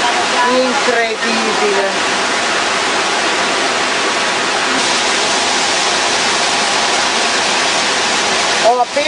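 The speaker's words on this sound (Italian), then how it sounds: "Ancora cascate, incredibile" Iguazu Falls on the Brazilian side roars as a steady, loud, dense wash of falling water, with a short spoken exclamation over it.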